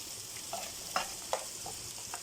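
Okra (lady's finger) sautéing in a pan for a Tamil tangy tamarind curry, a steady soft sizzle with a few sharp stirring scrapes and clinks standing out over about two seconds.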